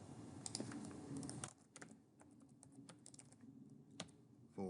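Keys clatter on a computer keyboard in quick irregular bursts, close and fairly quiet, with short pauses between runs of taps.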